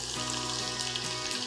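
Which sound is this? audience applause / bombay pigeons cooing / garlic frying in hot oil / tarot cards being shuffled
garlic frying in hot oil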